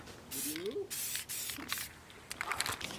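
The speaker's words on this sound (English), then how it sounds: "I am using an acrylic clear spray" Several short bursts of acrylic clear coat spray hiss from an aerosol can onto a CNC-cut wooden sign, separated by brief pauses, with faint squeaky sounds in between.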